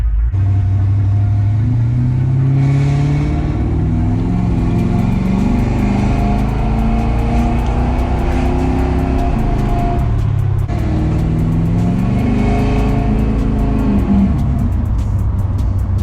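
A car engine idling loudly up close, repeatedly revving up and dropping back, a deep rumbling drone with rising and falling pitch.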